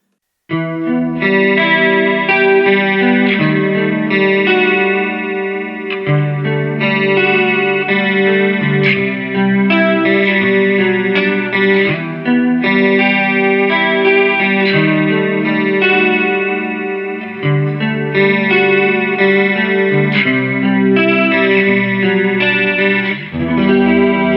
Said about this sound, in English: With the chorus in some of the low settings, you get some really nice 80s style chorus tones.